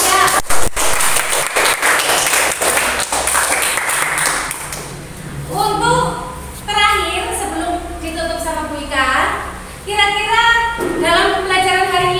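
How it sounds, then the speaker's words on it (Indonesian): Pupils in a classroom clap for student groups in a loud burst of applause that fades after a few seconds, followed by a teacher and children speaking. "Jadi tepuk tangan untuk kelompok 1, kelompok 2 dan kelompok 3"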